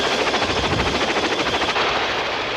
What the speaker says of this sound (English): The US Marines also make extensive use of the Boeing Vertol CH-46 Sea Knight tactical transport helicopter.